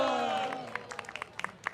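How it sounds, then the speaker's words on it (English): Scattered audience claps at a San Francisco Rath Yatra festival follow a dance performance, a handful of sharp individual hand claps rising after a voice fades, moderately close and thin rather than a full ovation. "Please give them a big round of applause"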